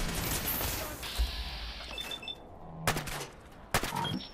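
Bursts of gunfire in the Fallout 4 video game, several sharp shots spread across a busy combat soundscape, heard fairly close with no speech over them.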